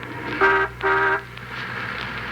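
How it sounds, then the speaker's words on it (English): Two short car horn honks, one right after the other, loud and close, with quiet background in between. "Now honk your horn. Loud."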